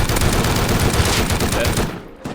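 Rapid, dense gunfire in the survival game Rust during an online raid on a base, a continuous loud burst of shots filling the whole moment.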